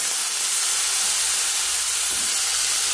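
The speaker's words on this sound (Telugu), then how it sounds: "ఈ ఉల్లిపాయ వేసిన దానిలో ఈ వంకాయ ముక్కలు కూడా వేసేద్దాం" Eggplant pieces sizzle loudly in a pan of frying onions, a steady dense hiss that holds for the whole stretch with no voice over it.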